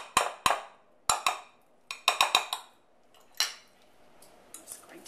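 Filling for a fresh fruit tart being spooned into a tart shell, heard as a series of sharp clinks of a spoon against a bowl and shell in bursts, fairly close, with no talking.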